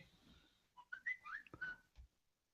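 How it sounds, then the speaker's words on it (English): Someone whistles a short, quiet melodic phrase of a few rising and falling notes, close and alone. "Why did I hear a whistle?"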